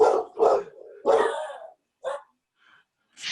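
A dog barks in several loud, close yaps at the start, then gives a couple of shorter, fainter barks after brief pauses, with no talking over it.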